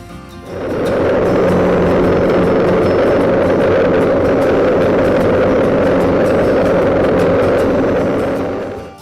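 A steady, droning small engine of a STIGA Tornado lawn tractor mowing grass runs loud and close for several seconds, starting up and fading slightly at the end.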